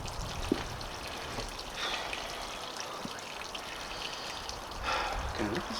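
Water pours and trickles out at an off-grid cabin during a snowstorm, a steady splashing with a few small knocks and a short burst of talk near the end.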